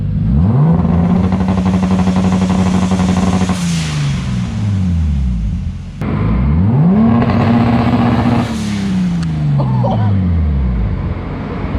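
A turbocharged 3.0-litre BMW M52 straight-six in an E30 revs on clutch-pedal launch control, climbing to a loud held drone that drops away, then a second identical loud rev-hold-and-fall sequence, close and dominant.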